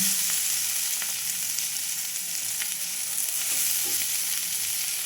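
Kakrol (teasel gourd) frying in an open pan gives a steady, close hiss of sizzling oil that runs unbroken throughout, with a few faint stir clicks and no voices.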